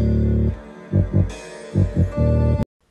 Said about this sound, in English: Then I like to do little stab notes sometimes. So I just get a normal note and I shorten it so it sounds like this.